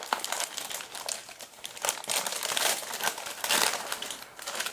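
Wrapping paper crinkles and crumples continuously as a box is opened, a dense close-up rustling with brief louder bursts and no voices.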